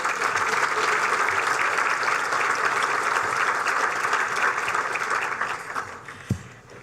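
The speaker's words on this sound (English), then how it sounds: "they deserve a round of applause also" Sustained audience applause fills a celebration luncheon hall, steady dense clapping from many hands that holds level before thinning out near the end.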